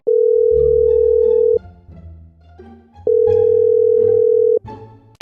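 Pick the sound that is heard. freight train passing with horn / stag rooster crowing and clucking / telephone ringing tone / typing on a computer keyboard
telephone ringing tone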